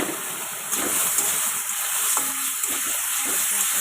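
A vegetable curry with homemade kala khar sizzles softly in the pan while being stirred, a steady hiss with light scraping and clinks from the spoon, close and moderately quiet.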